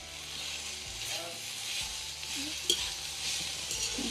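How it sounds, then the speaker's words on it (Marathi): Chopped radish bhaji being stirred and turned in a pan, a soft steady sizzle with scraping stirs of the spatula, close and fairly quiet. "भाजी आता आपण एकदा परतून घेऊया"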